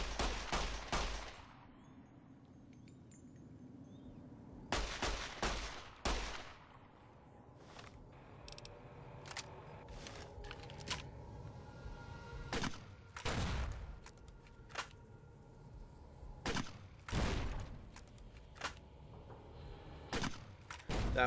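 Rapid bursts of gunfire and heavy grenade blasts from a post-apocalyptic shooter fight against Cazadors, sharp close cracks clustered in volleys with quieter gaps between, no talking.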